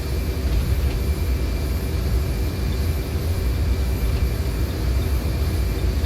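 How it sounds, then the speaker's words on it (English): Embraer 170/195 jet engines at full takeoff thrust in a flight simulator game: a steady, loud, dense roar with a low rumble, continuous and unbroken with no voices. "full forward the throttle. Takeoff thrust is set."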